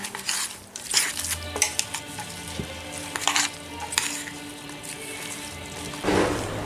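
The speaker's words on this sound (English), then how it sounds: "now we're going to mix all these vegetables with that stuff" Vegetables for kimchi are mixed together with seasoning paste in a bowl, giving close, irregular wet squelches and rustles with occasional light clinks of the container, no talk.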